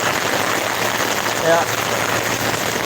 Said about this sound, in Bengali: অত্যন্ত প্রবল বেগে বৃষ্টি হচ্ছে